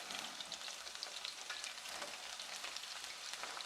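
Onion rings sizzle and crackle in a frying pan, a steady hiss with scattered pops, close but fairly quiet, with no voices.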